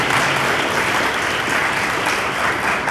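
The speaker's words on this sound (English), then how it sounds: "give them a round of applause, please" An audience at an 8th grade promotion ceremony breaks into sustained applause, a dense, even roar of many hands clapping at moderate volume for the whole stretch.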